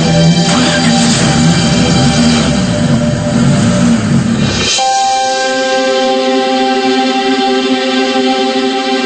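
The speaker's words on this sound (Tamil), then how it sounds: "இது ஏதோ வண்டி சத்தம் மாதிரி இருக்கு." A loud, steady engine drone with a sudden change midway as the rumble drops away, leaving a sustained tonal hum, continuous and close.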